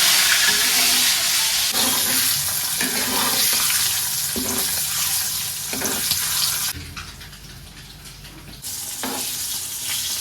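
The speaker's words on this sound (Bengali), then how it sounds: "তাহলে ডিম ভাজবো।" Eggs beaten with salt and turmeric fry in a pan with a constant loud sizzle and repeated scraping stirs. The frying drops out briefly near the end, then comes back. No one speaks.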